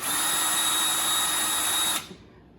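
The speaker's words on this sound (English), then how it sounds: "I'm going to drill" Electric drill whirring at a steady high pitch for about two seconds while drilling holes into a model train chassis, then stopping abruptly as the motor spins down.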